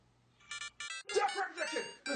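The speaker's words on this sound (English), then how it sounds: "Nice ringtone." A telephone ringtone plays as a short melodic tune in repeated bursts, followed by people talking over and after it.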